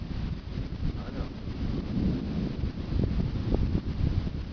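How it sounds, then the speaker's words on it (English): Low rumbling thunder rolls beneath steady wind buffeting the microphone during a tornadic thunderstorm, a continuous dense roar with swells and no voices. "Thunder sounds weird."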